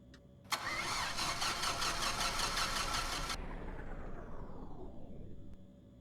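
A Pipistrel Panthera aircraft engine starts in a flight simulator: a sharp catch, then a steady, loud mechanical drone holds for a few seconds before it thins and fades away.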